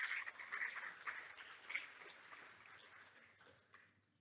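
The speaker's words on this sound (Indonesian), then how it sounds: "Kita beri tepuk tangan untuk Rakyat Merdeka." An audience applauds journalists of Rakyat Merdeka, a faint crowd clapping that is strongest at first and then fades steadily toward quiet.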